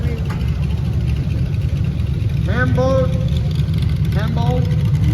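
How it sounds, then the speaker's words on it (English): A 1940 Farmall H tractor engine runs steadily at a low idle rumble during a parade, its mechanical drone continuous beneath an announcer's voice that speaks over it. "Farmall, 1940, second year build, Farmall H"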